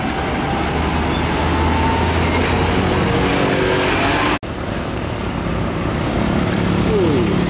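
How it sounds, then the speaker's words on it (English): A Hino SG 260 TI iso tank trailer truck speeding by makes a loud, continuous, close roar of engine and road noise that barely breaks for an instant before carrying on. "Trailer Isoteng ngebut."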